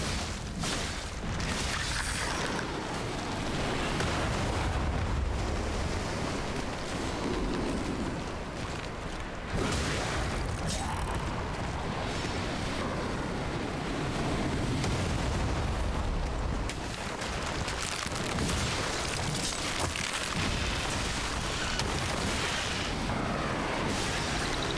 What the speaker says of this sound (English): Back to cannons again, are we?